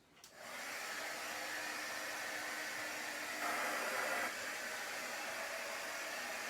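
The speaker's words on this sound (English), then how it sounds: "we're going to have to blow dry this" A hair dryer blows steadily on chalk paste spread over a Chalk Couture craft project, a close, continuous whooshing hiss that grows slightly stronger for a moment midway, with no talking.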